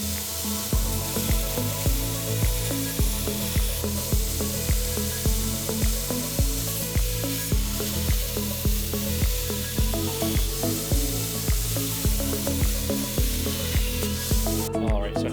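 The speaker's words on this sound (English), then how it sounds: "I'm going to go ahead and jump on the grinder and let's make some sparks" Belt grinder grinding chef's knife blades and throwing sparks, a loud continuous abrasive roar with a regular pulsing rhythm as the blades pass over the belt, steady throughout.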